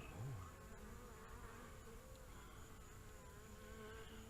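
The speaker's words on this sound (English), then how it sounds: "We have got a good sized swarm of bees in the top bar hive." A steady, dense insect hum of a swarm of bees in a top bar hive, buzzing together close by, continuous and fairly quiet with no voices.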